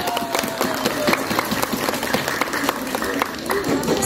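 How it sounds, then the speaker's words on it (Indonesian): Students and teachers at a junior high school student council candidate debate clap for candidate number 1, a steady moderate round of applause from a room-sized crowd lasting the whole moment. "Mana nih tepuk tangan buat nomor urut 1?"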